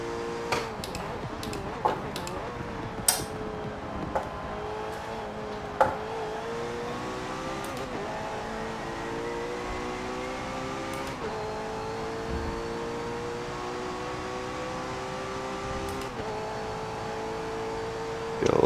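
McLaren Senna race car in Forza Motorsport 7 at Monza, its engine droning steadily at high revs with rising and falling pitch through gear changes, a few sharp ticks and clicks scattered over the continuous loud tone.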